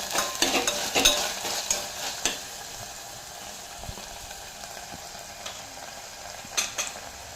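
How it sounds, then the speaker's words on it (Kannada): Garlic and ginger paste being mixed in a pan for methi pulao, with a soft sizzle under quick metal spatula scrapes and taps clustered at the start, then quieter sizzling with occasional stirs. "ಬೆಳ್ಳುಳ್ಳಿ ಹಾಗೂ ಶುಂಠಿ ಪೇಸ್ಟ್ ಹಾಕಿ ಸ್ವಲ್ಪ ಮಿಕ್ಸ್ ಮಾಡಿ"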